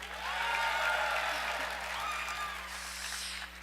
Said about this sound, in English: can we give Mick Tidrow a round of applause for being the voice of the Cardinals?